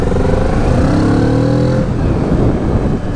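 A 2017 Kawasaki Z650 inline twin-cylinder motorcycle engine revs up on partial throttle with a rising pitch, loud and close, then settles into a steady rumble.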